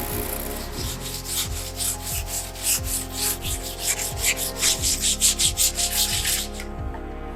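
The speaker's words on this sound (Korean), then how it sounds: "이 연마 과정을 통해 표면이 매끄럽게 만들어집니다." Steady back-and-forth sanding of a Joseon sword's wooden scabbard surface, close and continuous rasping strokes that quicken toward the end before stopping abruptly.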